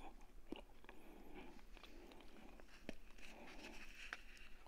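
Close, quiet crunching and chewing of a hard chocolate snack with cream, soft bites and mouth sounds repeating unevenly.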